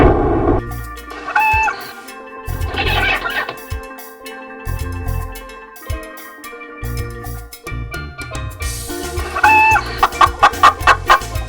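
A cartoon chicken clucks in agitated bursts as it is stolen, with a rapid run of clucks near the end over backing music.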